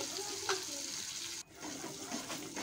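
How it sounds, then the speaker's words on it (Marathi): A spice paste mixture frying in hot oil in a wok gives a soft, continuous hiss with light scraping, briefly dipping before resuming, all fairly quiet. "हे सगळं मिश्रण एका गरम तेलामध्ये मस्तपैकी परतून घ्यायचं आहे।"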